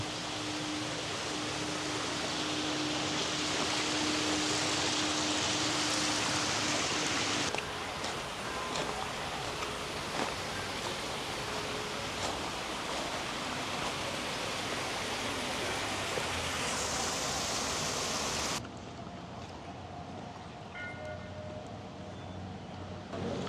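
Steady broadband rush of a waterfall at a Thai temple site between Chiang Mai and Chiang Rai, loud and continuous, dropping to a quieter, thinner flow near the end with no one speaking.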